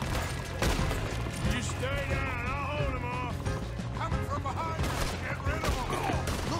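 Scattered gunshots from a Red Dead Redemption 2 shootout crack over music and game noise, with a voice talking through part of it.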